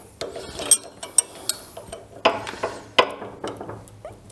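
Socket ratchet loosening the slip clutch spring nuts on a King Kutter tiller, giving a series of close, sharp clicking ratchet strokes in an uneven rhythm, with no talking.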